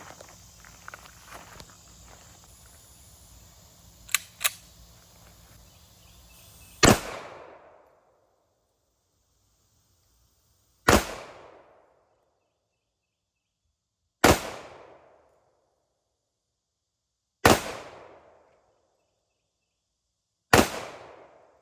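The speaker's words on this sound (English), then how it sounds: "we're going to be shooting the Desert Eagle, or baby Desert Eagle, in .45 caliber" Five sharp, loud pistol shots from a .45 ACP Desert Eagle firing hardball ammunition, evenly spaced about three to four seconds apart. Each report has a short echoing decay, and brief handling noise comes before the first shot.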